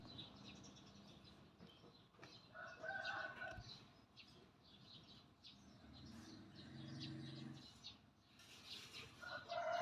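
A rooster crows in a rural Thai setting, with several crows and clucks from other fowl rising over faint background noise, heard at a moderate distance.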